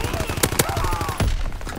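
Submachine gun fire in Call of Duty WW2, several quick close bursts of shots in a rapid irregular rhythm, loud against game sounds.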